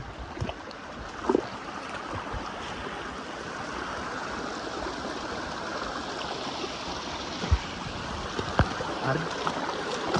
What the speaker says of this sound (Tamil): ஓடைக்குள்ளே நடந்து போகிற சுகமே தனி